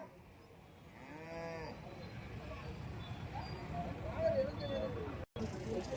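A cow at a Karimangalam cattle market, with HF and Jersey cows for sale, gives one clear, drawn-out moo. Market chatter and crowd noise continue around it.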